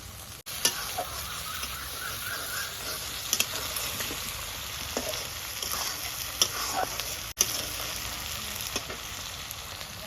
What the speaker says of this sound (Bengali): পেঁয়াজটা একটু কষানো হয়ে গেছে, আদা রসুনগুলো দিয়ে দিচ্ছি।